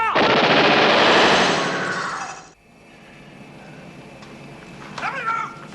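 A rapid burst of gunfire rattles loudly for about two seconds in a TV drama scene, then cuts to quieter ambience with a brief high vocal sound near the end.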